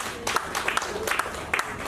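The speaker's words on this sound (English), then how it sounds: "Let's give her a round of applause" Scattered audience clapping at a formal Lagos pension commission event, a thin, uneven patter of individual claps in separate bursts rather than a full ovation.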